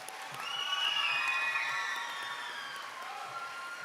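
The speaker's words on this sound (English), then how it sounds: "Let's give our aesthetics program another big round of applause." Applause with cheering from a ceremony crowd honoring aesthetics program students at a West-MEC career academy recognition event, steady and fairly loud, swelling early and then holding at a slightly lower level.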